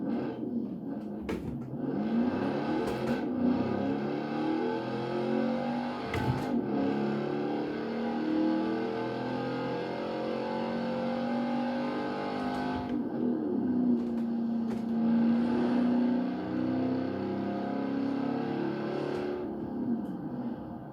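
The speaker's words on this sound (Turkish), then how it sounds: "Şöyle aracın sesini yükselteyim. Siz bolca aracın sesini duyun." Lamborghini Urus engine in the video game Forza Horizon 4, revving with rising and falling pitch sweeps and sustained throttle, a steady loud tone with brief dips and a few clunks, no talking.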